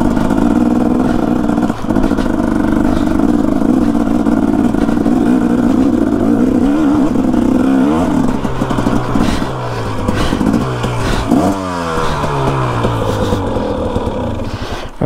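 A 650 motorcycle revs and accelerates loudly while being ridden, the engine note rising and falling through gear shifts, with steady wind and road roar close by throughout.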